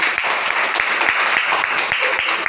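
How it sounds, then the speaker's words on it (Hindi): Loud, dense applause from a crowd, continuous clapping with a few sharper individual claps standing out throughout. "जोरदार तालियां दे सर के लिए।"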